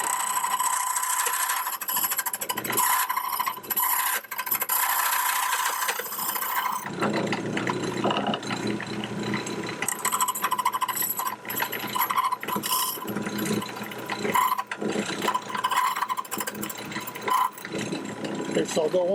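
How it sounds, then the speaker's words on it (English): A key duplicating machine cuts a key in several passes, making a loud, continuous grinding whir that shifts in texture as the blade bites, close by throughout. "I'm going to turn the machine on, and I'll just bring up the key again, and I'll make about 3 passes to cut this key"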